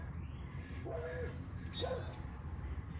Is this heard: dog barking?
yes